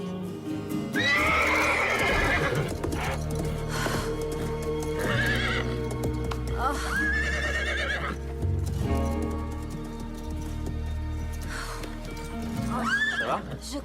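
A horse neighs and whinnies several times in loud, wavering bursts, with hooves clip-clopping and a low musical score running underneath throughout.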